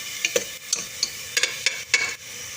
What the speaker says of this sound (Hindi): चमची की मदद से अच्छे से मिक्स कर लेना